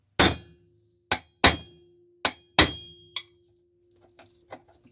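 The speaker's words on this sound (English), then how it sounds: "Just big old punch like this. Give her a couple good taps." A metal punch struck with a hammer on a Poulan Pro 365 chainsaw: five sharp ringing taps at uneven spacing, close and loud, then a few much fainter light ticks with a steady faint hum underneath.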